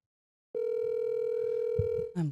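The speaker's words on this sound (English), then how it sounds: "this is a second failed phone call" A steady telephone tone from a failed phone call sounds for about a second and a half after a click, with faint murmuring beneath it, then cuts off into a short burst of sound.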